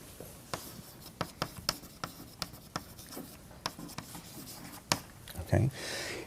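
Marker or pen writing an exchange-rate label along a graph axis, heard as a run of light, quiet taps and short scratchy strokes in an irregular rhythm, ending in a brief longer rub.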